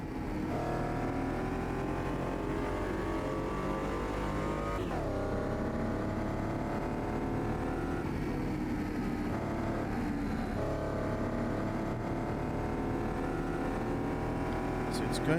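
Race car engine in the Automobilista 2 racing game, a steady layered drone with shifting revs and gear changes, running continuously at even loudness alongside a voice talking.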